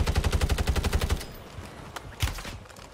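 Rapid automatic gunfire in Warzone, Modern Warfare 3, a fast even burst of about a dozen close, punchy shots that stops abruptly, followed by a few scattered single impacts and a louder crack.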